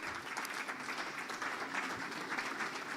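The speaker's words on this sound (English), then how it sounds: "please keep the clap going" Audience applause at a manufacturing-sector client workshop, a steady wash of many hands clapping, faint and distant, with no talk over it.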